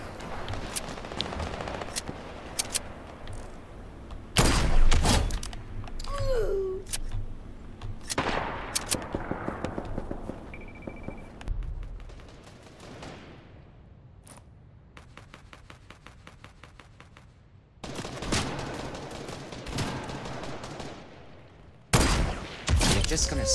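Gunfire in the Fortnite battle royale video game, with repeated bursts and volleys of shots that start and stop across the span, loud and close, interspersed with quieter gaps.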